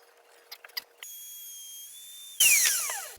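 A power tool cuts a test groove in wood for a terrarium build. After a few light knocks it starts with a steady high whine, then bites into the wood with a louder, rising cutting roar that tapers off as the tool spins down.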